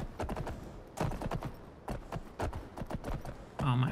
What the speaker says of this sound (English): Oh, my horse is getting tired.